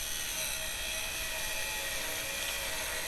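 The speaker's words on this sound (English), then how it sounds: "I'm just going to pull out the electric one again, the 720 watt unit, and just see how it compares in the hand for grinding." A 720 watt electric angle grinder runs steadily and close at constant speed, a continuous high whine with no pauses and no talking.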